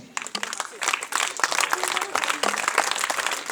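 Clapping breaks out for children receiving prizes at a school annual function after a speech competition, a lively crowd applauding in uneven bursts while a voice speaks over it.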